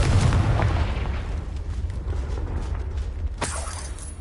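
A Confringo fire spell bursts in the Hogwarts Legacy video game, a loud, broad blast that rumbles and fades over a few seconds, followed by a second sharp crackling hit near the end, with no talking.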